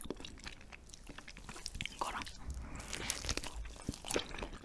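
Someone chews jelly made from eel skin up close. Moist, sticky mastication sounds with small crunchy clicks continue steadily throughout.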